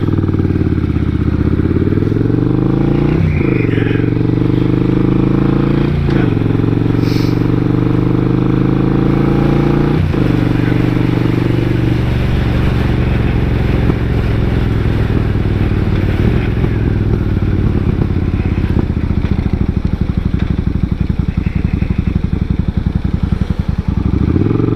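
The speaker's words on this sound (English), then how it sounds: "It's idling now that I got it warmed up" A 1999 Suzuki Intruder 800 motorcycle engine idles steadily and loudly close by, with a few sharp clicks early on and a rough, pulsing rumble continuing throughout without talk.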